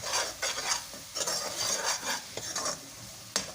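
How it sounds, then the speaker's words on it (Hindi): Masala with turmeric powder and crushed red chilli stirred and fried in a pan for a potato and egg curry: repeated scraping strokes over a steady sizzle, close and fairly loud, with no talking. "अब हम इसको अच्छे से मिक्स करेंगे, थोड़ी देर भूनेंगे"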